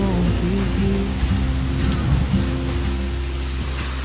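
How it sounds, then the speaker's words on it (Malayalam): Hailstones fall in Wayanad, Kerala, as a steady, dense patter on surfaces that carries on without a break, close and fairly loud, with no talk. "ആലിപ്പഴം പെരുക്കം"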